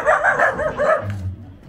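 Dogs barking at an outdoor family celebration, a quick run of loud, close barks that then fades into a lower rumble with no talking over them.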